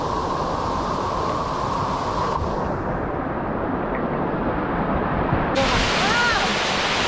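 Continuous heavy roar of rushing water at a stream waterfall in a rocky gorge, loud and close, holding steady throughout with a brief rise near the end and no clear talk.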